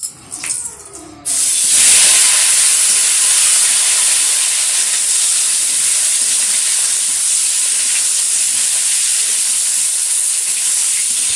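Cut potato, plantain and eggplant going into hot oil with panch phoron (five-spice) tempering; after a brief quiet start, a sudden loud sizzle bursts out and continues as a steady, bright hiss.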